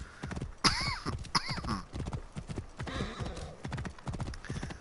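Horse hooves clip-clop at a steady trot in Assassin's Creed Origins, close and rhythmic, with a couple of loud whinnies early on and more neighing midway through.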